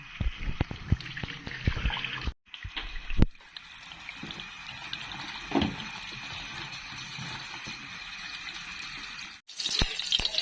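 Running tap water splashes and trickles steadily over eggplant being washed by hand in a kitchen sink, close and constant, with brief knocks and a short break when the flow stops.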